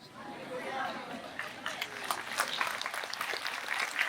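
An audience at a Hindi motivational talk breaks into scattered applause that swells and mixes with crowd murmur, while a voice continues speaking over it.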